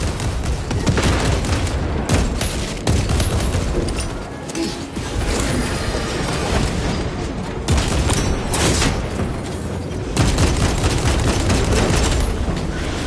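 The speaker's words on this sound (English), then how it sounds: "Throwing crack grenade!" Crack grenade blasts mixed with steady gunfire in the Warhammer 40,000: Space Marine 2 video game, a loud dense wall of booms and rattling shots with no pause.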